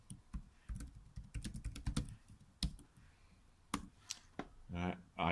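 Fingers type on a computer keyboard while setting up a Python program in PyCharm, giving irregular bursts of close, crisp key clicks with pauses and a voice briefly speaking near the end.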